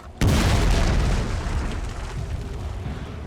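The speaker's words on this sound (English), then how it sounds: "Some good artillery fire." Artillery in the samurai-era strategy game Total War: Fall of the Samurai, during the siege of Osaka Castle: a sudden loud boom bursts out and rolls away into a long, rumbling decay, alone with no talk over it.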